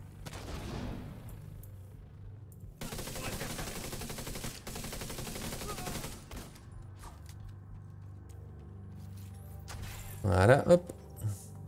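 Gunfire from a firefight in The Division 2 comes as bursts of rapid automatic shots, some heavier and some more distant. Louder impacts land near the end, and a player talks over the action.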